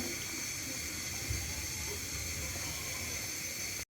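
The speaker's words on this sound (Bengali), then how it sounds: "আমার তরকারি বলক আসছে, এবার মাছটি দিয়ে দেব।" An elephant foot yam curry bubbles in a covered pot on the stove, a steady soft hiss and simmer coming to a boil, continuous and close.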